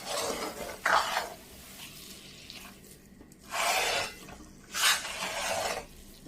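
Halwa with coconut, cashews and edible gum stirred in ghee on a low flame, heard as scraping, rasping strokes of a spoon against the pan in uneven bursts over a quiet background.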